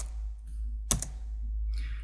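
A computer keyboard being tapped to enter a router's IP address, heard as a quiet clicking with one sharper keystroke burst in the middle, set against a steady low hum in a home setting.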